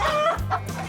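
A chicken clucks loudly and close by, a quick burst of a few throaty calls lasting under a second.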